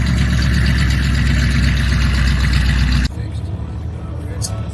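A modified 2019 Ford Mustang 5.0 with a cat delete runs loud and close, a deep steady engine rumble that holds for about three seconds before dropping sharply to a quieter background hum.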